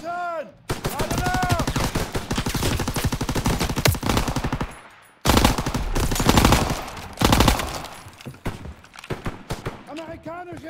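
Rapid automatic gunfire fills the Call of Duty battle, sustained rattling bursts broken by one brief pause, with shouting voices heard over the shooting.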